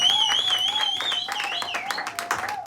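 A church congregation applauds for the glory of God, a steady patter of clapping under sustained shouts and cheering voices.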